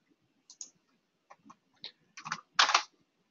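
Sparse computer mouse and keyboard clicks while working in DIANA software, a few isolated taps followed by a quick cluster of louder clicks, close and dry with no talk.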